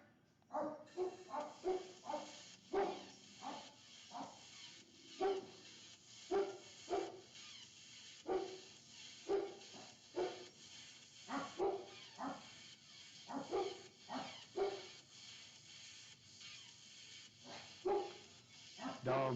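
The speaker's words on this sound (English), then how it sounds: "Dogs barking." Several dogs bark repeatedly in loud, irregular bursts throughout, some yips mixed in, close by and carrying over a quiet indoor background.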